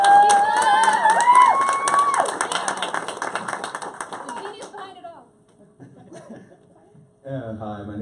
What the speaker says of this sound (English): Round of applause for Talisha.